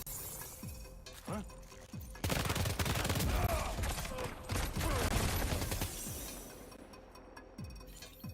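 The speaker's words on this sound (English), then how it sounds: "Alright, assault rifle. Let's pick that up and try this out now." An assault rifle in Death Stranding 2 fires rubber bullets in a loud, sustained burst lasting several seconds, with a few isolated shots before and after against a quiet background.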